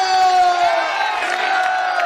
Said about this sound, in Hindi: जरा जोरदार ताली बजाओ।